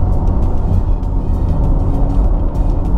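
Simulated sporty drive sound from a Porsche Taycan electric car, played through the speakers as a Formula One-like blend, a loud, steady low rumbling hum inside the cabin with no talk.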